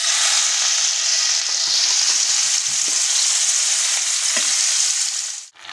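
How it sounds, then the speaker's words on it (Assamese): Salted, turmeric-rubbed common carp pieces frying in hot oil in a kadhai give a loud, steady, close sizzle that runs unbroken for several seconds, with soft stirring scrapes underneath, and it drops off sharply at the very end. "মাছখিনি ভজা হৈ গ'ল"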